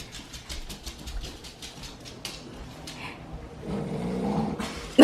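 A dog growls outdoors, low and rumbling, with soft whimpers and patter mixed in, fairly close and swelling louder toward the end.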